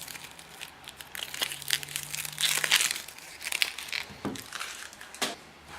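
Papery outer skin is peeled off halved onions with close, crackly crinkling and crunching rustles in irregular bursts, fairly soft and without any talking.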